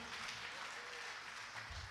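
Church congregation clapping together during a Sunday service, a steady dense wash of applause filling the whole moment at moderate level, with no clear voices over it.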